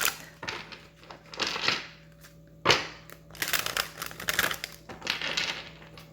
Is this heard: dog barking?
no